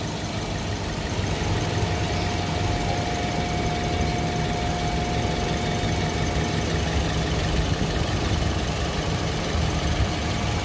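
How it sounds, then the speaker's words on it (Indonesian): Engine of a used ex-taxi car idling in a steady, even rumble, close and fairly loud, running continuously with no voices. "mesin sama, dia bunyinya juga nggak kasar dan kondisi mesin terawat ya, bersih"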